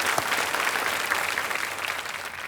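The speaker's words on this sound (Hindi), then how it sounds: "तालियां एक बार फिर बज जाएं इनके लिए।" Warm, continuous applause from a television game show studio audience, dense and even throughout at moderate loudness.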